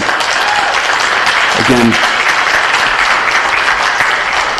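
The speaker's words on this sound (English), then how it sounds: "Let's give them a round of applause for that alone." A round of applause fills a city council meeting, dense steady clapping from the chamber audience with a voice speaking briefly over it.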